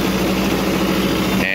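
A bench grinder fitted with a steel wire wheel runs at speed, giving a steady, loud motor whine with a constant low hum that cuts off near the end.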